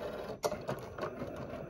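Cricut vinyl cutting machine cutting letters, a quiet mechanical whirring with a few soft clicks and motor pulses, steady and close.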